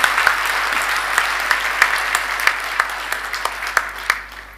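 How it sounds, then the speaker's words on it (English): A graduation ceremony audience gives a steady round of applause, a dense crowd of clapping hands with a few sharper individual claps standing out, moderately loud throughout. "And I think that deserves a big round of applause."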